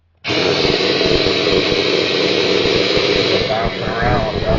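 A Tyco slot car motor from a #99 Citgo Ford Taurus spins up on a dyno, starting abruptly into a loud, steady high-pitched whine with a buzzing rattle underneath that holds for several seconds, recorded close with nothing else over it.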